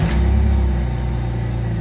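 A Jeep XJ Limited engine with 144,000 miles idles right after starting, a steady low rumbling drone that stays even and close throughout, with no talk over it.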